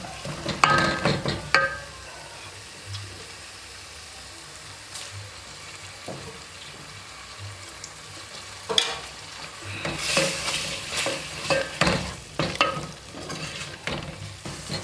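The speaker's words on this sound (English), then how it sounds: "we are continuing with the frying of the tomato paste." A steady sizzle of tomato paste frying in a pot for beef pilau, with repeated spoon scrapes and stirring clatter that grow busier toward the end.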